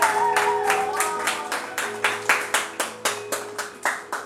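A crowd of mothers being honored claps at a church gathering, a steady rhythmic burst of about a dozen loud, evenly spaced hand claps with a faint sustained tone behind them.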